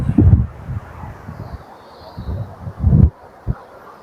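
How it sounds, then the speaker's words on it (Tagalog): Strong wind gusting across an outdoor hillside, buffeting the microphone in uneven rumbling bursts with quieter lulls between. "Lakas ng hangin."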